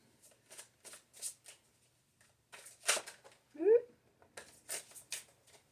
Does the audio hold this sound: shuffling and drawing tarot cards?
yes